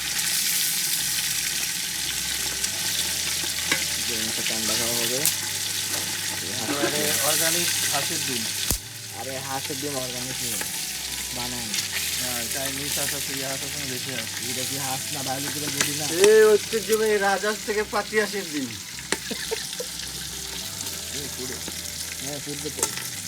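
Food frying in a pan at a village picnic makes a loud, continuous sizzle with stirring scrapes, while people talk nearby over it.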